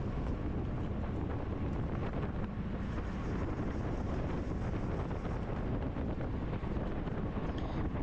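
Headwind buffets the microphone during a bike race, a loud, steady roar of rushing air that fills the whole stretch without letting up.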